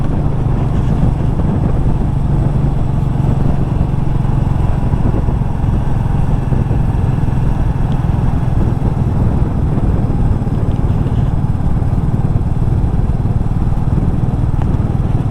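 A Royal Enfield Meteor 350 motorcycle riding at low speed gives a steady, loud engine drone mixed with heavy wind rush at the microphone. The sound stays continuous throughout, with no talking.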